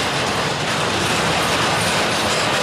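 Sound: intermodal freight train passing

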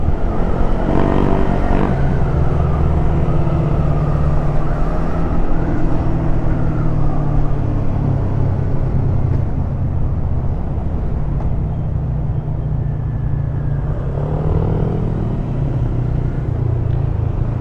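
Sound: Bristol Assassin R400 manual motorcycle riding in fourth gear

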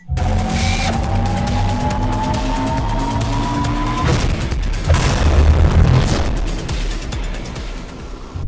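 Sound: explosion in the video game The Henry Stickmin Collection

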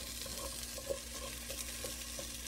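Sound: frying white onion in a pan

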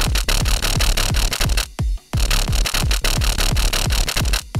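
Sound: growly drum and bass synth bass made in Serum

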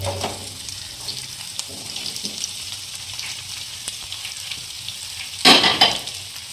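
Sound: onions frying in pan for masala dosa filling

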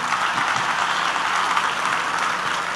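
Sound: audience applause in church

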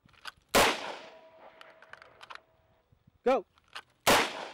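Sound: pistol gunshots at clay disks

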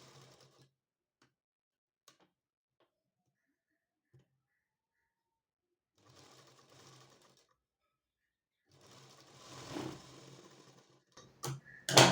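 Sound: sewing machine stitching blouse parts together

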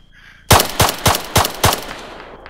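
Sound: gunfire hitting player in Arma III video game

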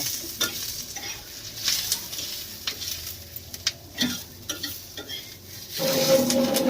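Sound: onions sautéing in oil

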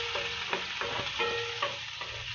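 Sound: garlic frying in hot oil in a pan

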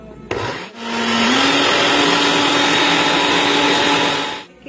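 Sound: blender whipping coffee until frothy

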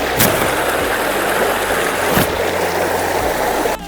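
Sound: river stream flowing

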